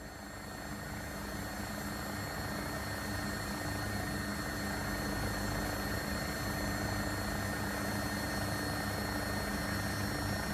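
An AW109SP Agusta helicopter in a flight simulator produces a continuous, steady rotor and turbine drone with a high whine, unbroken and fairly even in loudness throughout.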